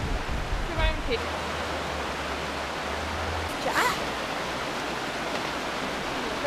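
A river flows as a steady, broadband rush beneath a walk, with brief voices and small handling sounds briefly breaking through.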